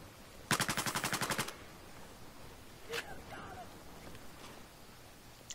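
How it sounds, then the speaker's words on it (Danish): In the video game Battlefield 4, a rapid burst of about ten machine gun shots in quick succession, loud and close, followed by a single sharper shot and quieter scattered game noises. "Sindssygt de der skud, de er fede, mand."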